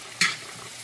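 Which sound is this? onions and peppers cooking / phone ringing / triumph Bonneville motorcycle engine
onions and peppers cooking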